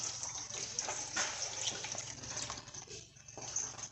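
Used engine oil drains from a 2021 Chevy Tahoe police pursuit vehicle into a drain pan: a steady, continuous liquid pour with a splashing, trickling texture that holds throughout at moderate loudness.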